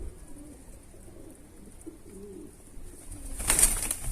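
Pigeons softly cooing inside a coop, low muffled calls repeating close by, then a sudden burst of fluttering wings near the end.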